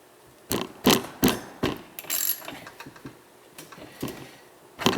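A socket wrench ratchets on the spark plug of an ice auger, giving a string of moderately close clicking bursts, each a quick stroke with gaps between.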